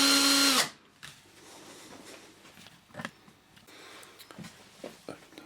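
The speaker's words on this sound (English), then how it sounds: "It's important when you use a buffer like this that you have control over the actual drill." Hand drill fitted with a buffing wheel, polishing a brass doorknob: a short, loud whirring burst at the start cuts off, followed by faint handling clicks and taps.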